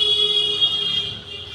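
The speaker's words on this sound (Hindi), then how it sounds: "ये तीसरा डायोड भी हमें बीप की आवाज़ साउंड दे रहा है" A digital multimeter on continuity mode beeps while testing a diode in a DTH set-top box SMPS power supply: a loud, steady, high-pitched electronic tone held unbroken throughout, with no talking.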